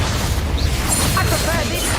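Spell blasts from the Incendio and Confringo fire charms in the Hogwarts Legacy video game, a continuous low booming rumble with bursts layered over it, heard alongside a talking voice.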